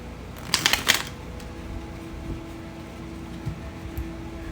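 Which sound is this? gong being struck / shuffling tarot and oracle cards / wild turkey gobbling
shuffling tarot and oracle cards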